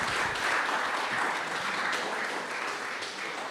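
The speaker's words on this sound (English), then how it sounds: "I want to ask again for a round of applause for them for a job well done." An audience applauds the panel members at a Grenada National Council for the Disabled event in St. Paul's, a steady, dense round of clapping that fills the room throughout.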